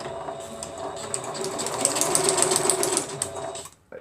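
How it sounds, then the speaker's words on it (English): A sewing machine back stitching at a 2.5 stitch length, its motor whirring in a steady, close mechanical run for a few seconds before it abruptly stops. "I want to back stitch on it"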